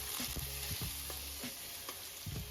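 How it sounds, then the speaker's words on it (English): Salmon cooking in avocado oil in a pan, a soft continuous sizzle with intermittent spatula taps and scraping knocks, fairly quiet and close. "I'm gonna add some avocado oil to my pan and just cook my salmon."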